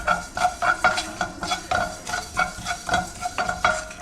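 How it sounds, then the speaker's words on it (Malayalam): Sesame seeds roast in a pan on a home stove for laddu, stirred with steady rhythmic scraping strokes about every third of a second, close and fairly loud, with a faint sizzle underneath. "എള്ളൊന്ന് വറുക്കണം."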